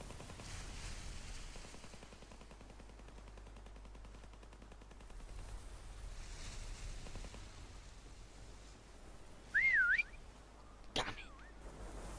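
A short rising-falling whistle from a hidden player in a prop hunt game mode, sounding once clearly over quiet background noise, followed by a sharp bang.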